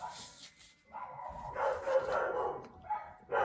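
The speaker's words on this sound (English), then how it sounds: "Poor little dog is getting cornered by Mila" A small dog barks and whimpers indoors, a few close, moderately loud yips and yelps in uneven bursts.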